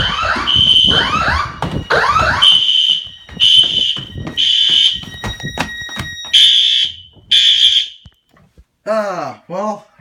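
A building fire alarm sounds loud and close during a fire drill, repeating pulsed electronic tones in bursts with brief pauses, ending in a quieter stretch of sweeping tones.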